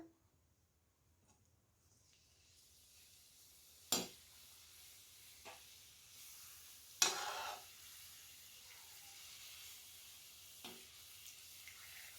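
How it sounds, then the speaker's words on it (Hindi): Gujiya frying in desi ghee gives a faint, low bubbling sizzle that builds gradually, broken by a few sharp clinks and scrapes as pieces are moved in the pan. "तो चलिए एक एक करके गुंजिया तलना शुरू करते हैं।"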